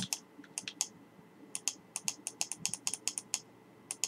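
Someone types on a computer keyboard in quiet indoor surroundings: light, crisp key clicks come in irregular bursts and short runs, with brief pauses between them.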